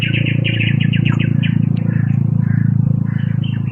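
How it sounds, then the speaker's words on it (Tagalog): A crow calling in a video game: a series of rapid chirping bird calls over a loud, steady low hum, close and prominent throughout. "may uwak"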